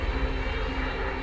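A military airplane in the game Arma 3 passes overhead with a steady, loud, droning engine roar that fills the whole moment without a break.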